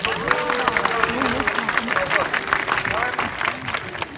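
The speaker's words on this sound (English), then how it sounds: "give him a round of applause" An audience claps for a male California sea lion at Flamingo Land in the UK, with steady, dense applause and crowd noise running throughout, and voices talking over it.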